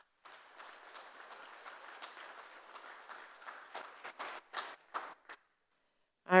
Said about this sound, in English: So I would like everybody to applaud that our Director of Public Safety, Caleb Br